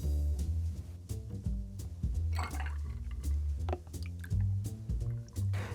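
Half and half, about 2.5 ounces, poured into a creamy cocktail, giving a soft wet glugging and splashing with a few squishy drips, close and fairly quiet, with no talking.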